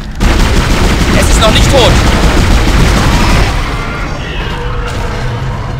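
Rapid gunfire from a weapon in the Dead Space sci-fi horror video game, a loud dense burst of shots over the first few seconds that fades into quieter game ambience, with a voice speaking briefly.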